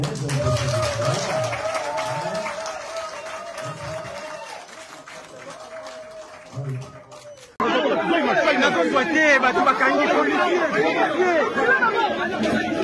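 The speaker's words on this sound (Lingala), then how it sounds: "Les applaudissements timides." Murmured crowd chatter gives way to a burst of scattered, light clapping from a small audience that continues to the end.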